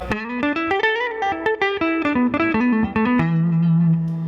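A Fender Custom Shop '67 Stratocaster on its middle pickup plays a quick melodic run with a clean, warm tone, notes ringing briefly before settling on a sustained low note.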